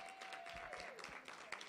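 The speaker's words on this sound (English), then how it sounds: "Give her a round of applause." Applause from an audience for someone speaker: a dense, steady wash of clapping across the whole short stretch, with a thin whistle-like tone running through the first part.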